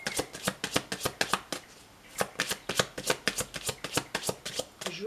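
Tarot card deck shuffled and cut by hand, a rapid run of crisp riffling card slaps in quick bursts with a short pause midway, close and clear with no speech.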